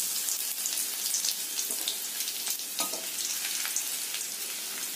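Garlic fries in hot oil with a constant crackling sizzle, close and fairly loud, peppered with small sharp pops and spits.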